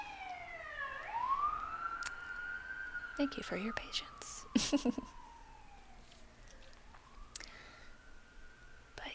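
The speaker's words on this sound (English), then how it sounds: "And the police car's going by." A police car siren wails as it passes by, its rising and falling tone sweeping through the clip while a quiet voice speaks and clicks and taps sound nearby.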